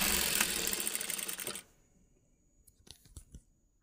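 An electric sewing machine stitches thread piping onto a cloth sleeve, running in a fast, steady whir for about a second and a half, then stopping, followed by a few faint clicks and fabric handling sounds.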